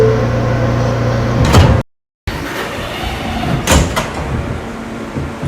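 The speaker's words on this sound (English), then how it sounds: "Stand clear of the closing doors," Subway train doors slide and thump shut twice, around 1.5 and 3.7 seconds, over a steady hum and rumble from the train, with a short dropout of total silence between the two closings.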